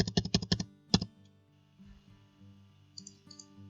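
Computer keyboard arrow keys tapped in a quick burst of about eight sharp clicks, followed by one more isolated press, close and crisp in a quiet room with faint software tones afterward.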